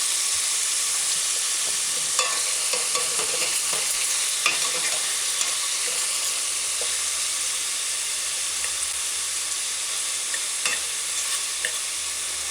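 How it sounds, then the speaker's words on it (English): Chicken pieces slow-fry in a pan for a broad bean stew, giving a steady, even sizzle throughout, broken by scattered clicks and scrapes as the pieces are stirred and turned. "with the chicken slow frying, it also is gonna give it a certain kind of texture"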